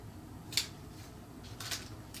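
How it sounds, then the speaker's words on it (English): Scissors snip through a flower stem in two quick cuts, a crisp close snap followed a second later by another, over a faint, quiet background. "Just cut that off, and I'm going to snip it right at the base"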